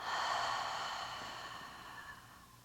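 A long, deep exhale during yoga breathing, a breathy sigh-like rush of air released close to the mic that starts strong and slowly fades over a couple of seconds, with no talking.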